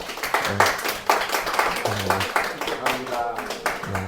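A church congregation claps in bursts during a Sunday service, close sharp hand claps under a speaking voice and scattered vocal sounds.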